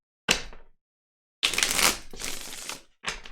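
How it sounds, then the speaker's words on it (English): A deck of cards is shuffled by hand in three quick, papery riffling bursts separated by short silences, close and fairly quiet. "One more shuffle for Scorpio."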